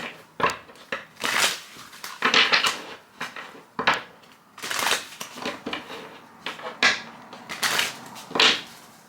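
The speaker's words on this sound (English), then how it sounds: "Let me do a quick shuffle." Tarot cards being shuffled by hand, a run of quick papery riffles and soft slaps in uneven bursts, close and fairly loud, with no talking.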